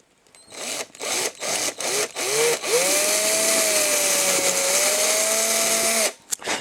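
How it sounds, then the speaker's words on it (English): A power drill bores a hole into a Hot Wheels 1970 Ford Escort RS1600 Lotus Cosworth model car, starting with several short whirring bursts that rise in pitch, then a sustained steady whine for about three seconds before stopping, close and loud. "so I can actually see which way I'm drilling here"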